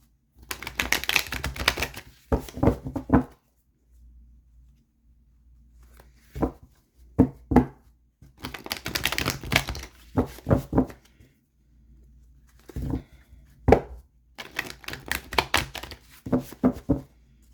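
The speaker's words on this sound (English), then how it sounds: "let's pull some tarot cards and see what's coming out for you" Tarot cards are shuffled and pulled in bursts of dry riffling, slapping and tapping, separated by quiet pauses, close and fairly crisp, with no talking.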